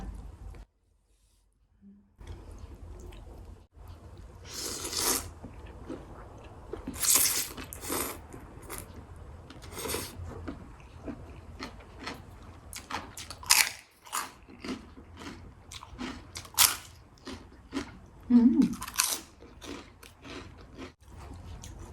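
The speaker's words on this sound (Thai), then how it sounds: "แคบหมูกรอบกรอบค่ะ" Crispy pork rinds being bitten and chewed close up, a dense run of sharp, irregular crunches and crackles that keeps going after a short quiet start, with no talking over it.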